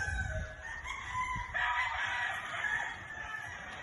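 A rooster crows once at a distance, a drawn-out call over steady background hiss, with no talking.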